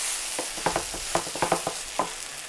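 Rice and bean sprouts are stirred together in a hot frying pan: a quiet sizzle broken by a quick run of close spatula scrapes and taps in an irregular rhythm.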